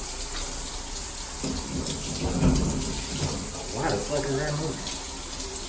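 A truck-stop shower at a Love's in Pecos, Texas, running during a water pressure check, a steady close hiss of spray with some knocking and a man's brief speech over it.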